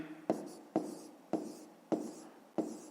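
A pen writes a mixed number on paper in five sharp, evenly spaced taps and strokes, close and quiet with no talking.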